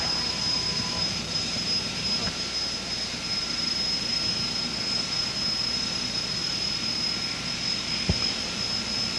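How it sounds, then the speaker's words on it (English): A jet dragster's engine at the drag strip starting line at London Motorsports Park in 1992 gives a steady, loud roar with a sustained high whine, continuous and unbroken. "Racing, drag racing, and jet car action."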